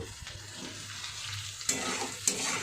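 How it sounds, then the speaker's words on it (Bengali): Nigella seeds and garlic frying as a tempering in a home kitchen pan, a steady low sizzle with stirring scrapes and two sharp clinks of a utensil against the pan. "এটাকে কালো জিরে রসুন ফোড়ন দিয়ে ভালো করে একটু ভেজে নিচ্ছি"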